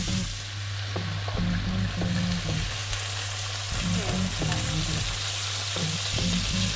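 White wine hits a hot pot used for lamb breast, setting off a steady close sizzle with scraping and stirring clatter throughout, no talking.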